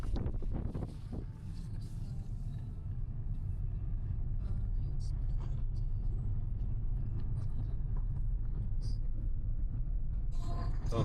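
Car rolling over loose gravel on a mountain road in Morocco, a steady low rumble with crunching texture and wind buffeting the microphone, continuous and fairly loud throughout with no talking.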